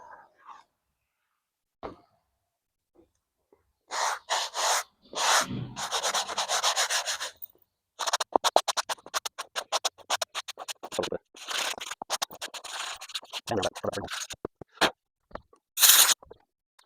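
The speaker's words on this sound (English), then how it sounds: "I might sand it again." Sanding a handmade tricorn hat by hand: bursts of close, dry rasping strokes come in uneven runs separated by pauses, with a few isolated scrapes and taps.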